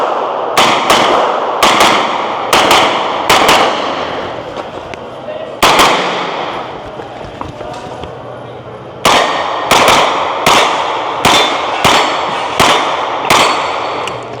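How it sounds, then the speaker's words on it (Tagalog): Gunshots crack out during shooting practice, loud close reports in clusters, some rapid pairs and bursts with short pauses between groups, ringing and echoing over a steady background, with people talking around them. "Medyo okay na yung putok natin ngayon."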